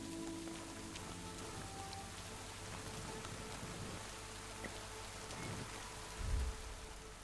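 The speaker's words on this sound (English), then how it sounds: "It's still raining." Steady rain pours in a video game scene, an even hiss of drops on surfaces throughout with faint low rumbles and a brief soft thump near the end, no voices.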